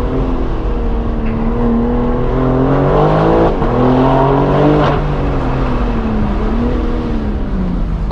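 A BMW M4 fitted with a full straight-pipe exhaust accelerates hard, a loud raw engine roar sweeping up through the gears with rising and falling pitch, heard close and alone.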